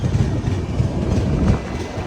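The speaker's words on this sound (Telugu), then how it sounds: "కాలాబుర్గి స్టేషన్ నుంచి మన ట్రైన్ స్టార్ట్ అయిపోయింది" The Hussain Sagar Express rumbles steadily as it pulls away from Kalaburagi station, a loud continuous low rolling din with faint rhythmic wheel clatter and no voices.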